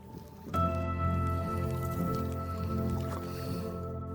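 A canoe paddle dips and pulls through the calm water of a Scottish Highland loch, soft watery splashes and drips up close over a steady low background hum.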